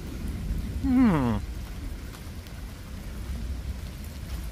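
Steady heavy rain shower pouring down outdoors at a park, a dense continuous wash of noise with a brief whining vocal sound rising over it near the start.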